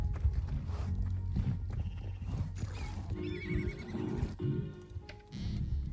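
Horses in a video game give a couple of whinnies over a continuous mix of hoof clip-clops and footsteps, with a busy ambient background.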